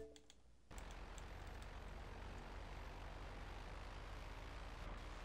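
Propeller airplane engine in GTA, a steady loud drone that kicks in abruptly after a brief quieter start and holds evenly throughout.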